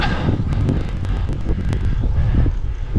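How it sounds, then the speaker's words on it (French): Strong wind buffets the microphone in steady rumbling gusts outdoors in wet weather, with faint flapping clicks and no talking. "Accompagné de rafales de vent."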